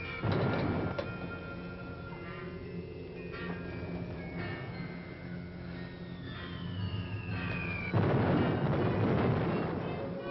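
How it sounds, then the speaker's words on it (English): Distant bombing booms in heavy rolling bursts, loudest at the start and again near the end, with a long low rumble and a falling whistle-like tone in between. "Bombing still make you nervous, Kurt?"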